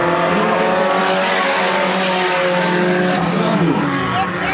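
Race car number 35, a Força Livre class car from Cruzada, roars close by near the finish of a Velocar race, a loud steady engine drone with a rising pitch sweep and brief tire squeal, no voices.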